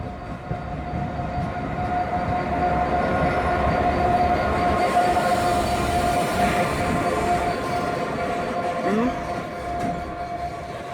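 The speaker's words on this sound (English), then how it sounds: "The approaching train is not scheduled to stop at this station." A non-stopping train, a light engine, rumbles steadily through a station platform nearby, its wheels clattering over the rails. Faint voices can be heard underneath.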